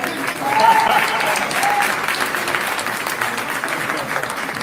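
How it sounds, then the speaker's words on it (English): Applause at a city board meeting, a sustained crowd of clapping hands with a brief whistle or cheer near the start, holding steady and fairly soft throughout. "So I'm going to ask if everybody can give Keith Freeman a round of applause."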